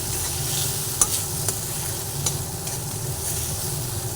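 Sesame paste sizzles steadily as it is stirred in hot oil, a continuous close frying hiss with a few light utensil scrapes and taps.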